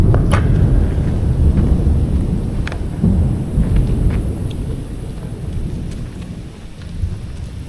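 A thunderstorm rolls over outside an abandoned mall, with heavy thunder rumbling low and long under a steady wash of rain and scattered sharp drips, fairly close and loud.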